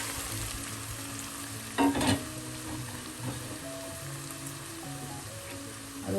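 Sliced onion with green chilies and curry leaves sizzles in hot oil, producing a low, even frying hiss close by, punctuated by a brief louder crackle as the ingredients hit the pan.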